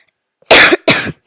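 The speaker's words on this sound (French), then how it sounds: "Désolée si vous m'entendez tousser." Two short, sharp coughs from a woman who is a little ill, close to the microphone, the second following just after the first in an otherwise quiet room.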